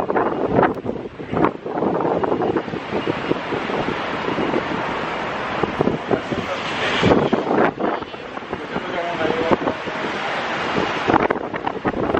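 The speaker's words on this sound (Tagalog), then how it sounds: "Sobrang mahangin." Strong wind buffets the microphone in Rotterdam, a loud, continuous roar with gusty bursts and no clear voices.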